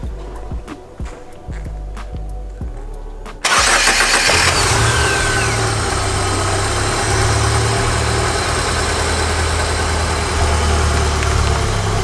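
Clicking and a brief crank give way to a BMW engine roaring to life, then settling into a loud, steady idle close by.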